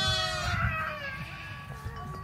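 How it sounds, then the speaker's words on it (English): A goat on a small homestead bleats in a short, wavering cry close by, with a faint voice nearby. "Which one of my goats is talking?"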